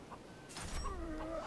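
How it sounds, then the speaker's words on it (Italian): Chickens cluck from the Far Cry 3 video game, a few short bird calls rising over steady game background noise. "Avanti, galline assassine, fate il vostro dovere."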